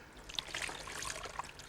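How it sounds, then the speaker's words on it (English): Cold water pours into a bath holding little toy ducks, a soft steady trickle and splash that stays fairly quiet and continuous, with small bright drips and spatters over the flow. "We'll put in some cold water first of all to see if it's too cold."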